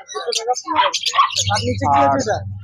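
Pet lovebirds, including lutinos, at the Serampore bird market: bright, close chirps and tweets mixed with someone speaking over them, busy and fairly loud.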